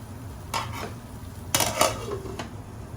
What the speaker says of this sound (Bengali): আমি আরেকটু সয়াবিন তেল দিয়ে দিয়েছি কিছুক্ষণ ভালোভাবে নাড়াচাড়া করে এটাকে আমি কষতে দিব